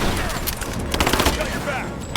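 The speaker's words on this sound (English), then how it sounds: "Enemy suppressing fire now." Suppressing gunfire in Rise of the Tomb Raider, a dense, continuous crackle of shots over two seconds, steady and fairly loud, with a game voice mixed in.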